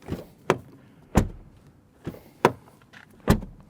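Audi Q6 car doors closing, several separate solid thuds with short pauses between them, close and loud against a quiet background.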